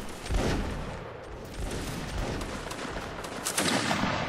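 Musket volleys crackle through a Napoleonic Wars line battle video game, several overlapping shots cracking close and far in a dense, rolling burst of gunfire.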